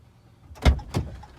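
Two quick, solid thumps about a third of a second apart, close by, as the door of a 2013 Laramie Longhorn Edition pickup truck with a 6.7 Cummins engine is opened and handled, with quiet around them.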